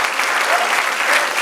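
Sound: congregation applauding during sermon

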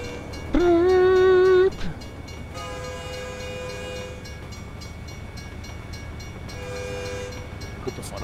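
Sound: horn honking in American Truck Simulator video game

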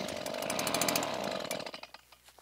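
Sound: STIHL handheld leaf blower starting on choke

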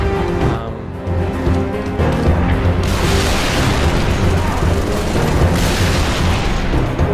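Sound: rocket launcher explosions in the video game Halo 3: ODST

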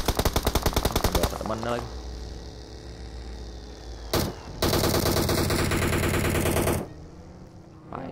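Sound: gunfire in a video game (shooter)

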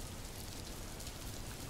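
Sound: rain falling, children's cartoon

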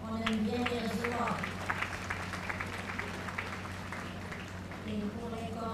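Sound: audience applause

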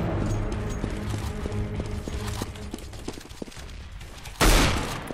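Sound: gunshots from an SSG rifle in the video game Roblox

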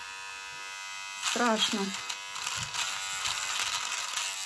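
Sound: electric trimmer buzzing while shaving stubble

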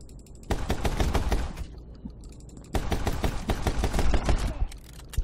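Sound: enemy laser gunfire in My Friend Pedro video game

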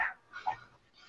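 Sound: dog barking

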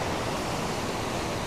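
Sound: waterfall, water flowing down in tiers

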